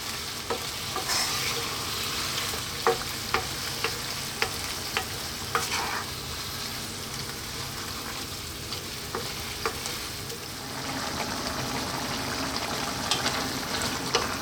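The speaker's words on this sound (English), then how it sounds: "6 minutes, give it a stir every now and then." Spinach and mushroom pasta sauce sizzles steadily in a pan over medium heat, with a spoon stirring through it in scattered soft scrapes and clicks, all fairly quiet and close.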